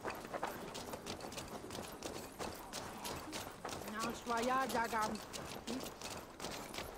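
Horses in the video game Assassin's Creed Valhalla clip-clop along with a steady run of hoof beats, moderately loud, under game ambience and voices, with a brief harmonic call in the middle.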